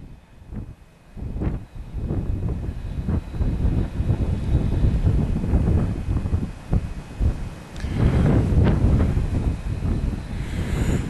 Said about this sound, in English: As you can see by the way the ferns are blowing, the wind's pretty strong round here